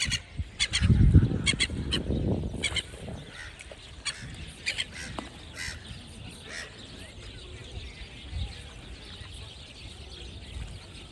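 Ducks and gulls calling in a noisy outdoor park scene in Kryvyi Rih, with a burst of loud honking squawks near the start, then scattered cries and chatter over steady background noise.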